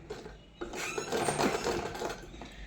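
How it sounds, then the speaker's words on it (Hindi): A sewing machine stitches a pocket seam on a frock suit in one short, quiet burst after a brief pause, its motor whirring steadily close by. "उसी निशान पे मशीन चलानी है और सिलाई को पक्का कर लेना है"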